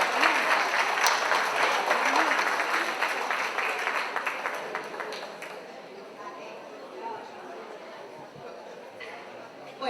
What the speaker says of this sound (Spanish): Fuertes los aplausos para ellos.